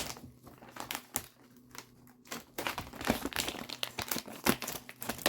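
Old scissors snip and crinkle through a plastic bag of reptile substrate, a string of close, sharp cutting and rustling sounds in irregular bursts, quiet overall.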